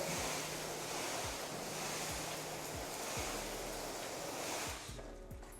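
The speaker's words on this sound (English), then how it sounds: "what I'm gonna do here is just spray some water" Steady broadband hiss of water from a hose spraying a car, continuous and close, with faint rhythmic clicks underneath before it tapers off near the end.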